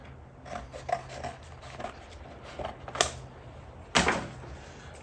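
Material is cut out by hand, craft style, in a garage while working on a VW air-cooled 1600 custom exhaust; close scissor snips and rasping scrapes come in irregular bursts, with one louder crunch near the end.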